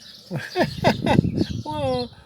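A small bird chirps with a short run of bright, rising and falling tweets, followed by a brief harmonic call, heard close and fairly loud with no talk over it.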